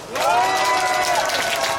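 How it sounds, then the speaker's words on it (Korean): Crowd applause at a Korean county-governor candidate's election campaign rally, a steady wash of clapping lasting under two seconds, with a voice carrying over it. "이렇게 박수 한번 치십시오."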